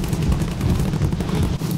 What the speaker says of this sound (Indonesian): Suara tembakan di kiri